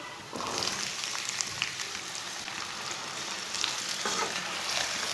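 Taro root (arbi) frying in a pan with lightly browned onions, a steady dense sizzle and crackle that holds loud and close throughout, with soft stirring scrapes and no one talking.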